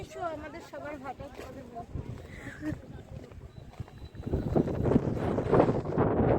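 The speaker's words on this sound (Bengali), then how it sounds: "পুরো ধুলোগুলো উড়ে উড়ে এদিকে আসছে, এদিক দিয়ে হাওয়া দিচ্ছে।" A person talks briefly, then gusty, dusty wind at a brick kiln buffets the microphone with a loud, rushing rumble.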